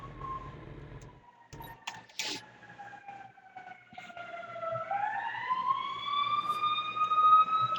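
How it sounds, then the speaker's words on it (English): A siren wails at a distance, its tone sliding slowly down and then sweeping back up, heard over road and wind noise from a ZX-10 motorcycle ride. "Hear that nice siren there?"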